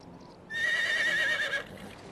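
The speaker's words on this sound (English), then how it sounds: "And Flynn, what are you doing in there? Playing with the other horses?" A horse in the video game Medieval Dynasty gives a single clear whinny lasting about a second, close and loud over quiet background.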